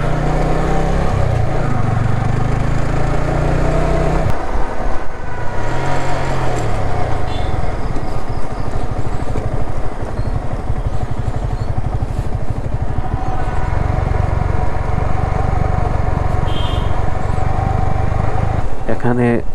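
A motorbike rumbles and clatters along a rough, rutted road toward Ruma in the Bandarban hills, its engine droning close and continuously with rattling over bumps while a rider talks over it.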